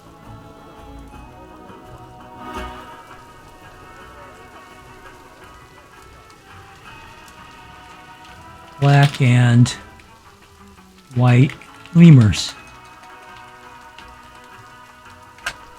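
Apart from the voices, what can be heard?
rain falling in video game Planet Zoo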